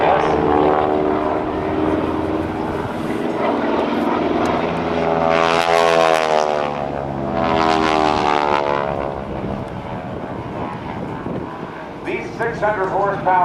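GEICO Skytypers propeller warplanes with 600 horsepower engines and Hamilton Standard propellers make a low pass at the 2008 NAS Oceana airshow. Their loud, rasping drone swells twice as the aircraft sweep by close overhead, with a tone that bends as each passes.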